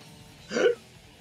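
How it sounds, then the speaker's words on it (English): A single short hiccup from someone commentating a Fire Pro Wrestling G1 video game match, close and fairly loud over a quiet background, with no talk. "God, that match gave me hiccups."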